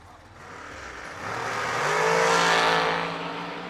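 A dragster launches down a drag racing strip, its engine swelling from a low rumble into a loud, rising roar that peaks and then fades slightly as it pulls away.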